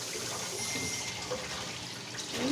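Steady running water washes clay kulhad tea cups, a continuous close splash and gush that holds evenly for the whole stretch.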